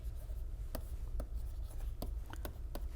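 A pen writing during a physics lecture: faint scratching strokes with a few sharper taps, close up over a constant low background hum, no talking.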